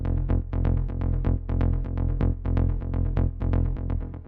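A synth bass plays a steady pulsing pattern of short, punchy notes in a repeating rhythm, loud and alone with no talking.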